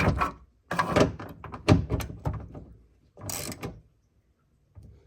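A ratchet tightens the mirror bolt on a 2005 Ford Explorer Sport Trac in several short bursts of close mechanical clicking and clunking, separated by brief pauses. The clicks come at close range and no one talks.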